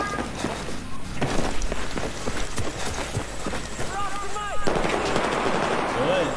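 Rapid automatic gunfire rattles in bursts throughout a Battlefield 4 online match, with footsteps and vehicle sounds mixed in while someone talks excitedly over the action.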